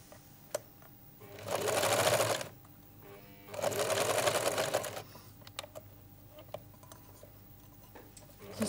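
A sewing machine stitches fabric in two short bursts of fast whirring, a couple of seconds each, with quiet ticks and clicks of handling between and after them.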